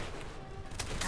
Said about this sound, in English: Sniper rifle time.